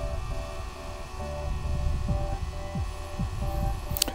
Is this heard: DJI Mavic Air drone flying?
yes